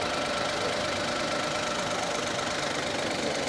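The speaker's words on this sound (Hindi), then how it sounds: "अब ये टोटल आवाज़ है गाड़ी की" A Suzuki Cultus 1000cc car engine running steadily with the fan and AC off, a constant, dense mechanical drone with a knocking texture, close and even throughout.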